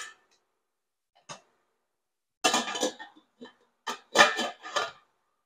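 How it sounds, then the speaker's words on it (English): A metal cauliflower steamer pot is dropped into a pot of boiling water with a few sharp clanks and clatters in two bursts, close by and otherwise quiet. "we'll go ahead and drop the cauliflower steam pot into the boiling water."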